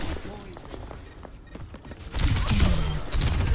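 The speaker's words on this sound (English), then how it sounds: "I can just keep shooting." A Widowmaker sniper rifle in Overwatch 2 fires in sharp, separate cracks, with other in-game action around it, and heavier shots and bursts at the end. Someone is talking over part of it.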